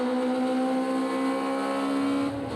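A Lotus Elise Trophy race car heard onboard at Silverstone with Neil McKean driving, its engine holding a loud, steady high drone that dips slightly near the end, with no talking.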